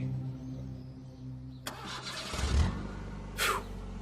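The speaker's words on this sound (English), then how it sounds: "My car breaking down here would have literally been the worst thing ever." A car engine cranks and catches after a breakdown, a short sputter that settles into a steady running rumble, close and fairly loud, with a brief rise in revs near the end.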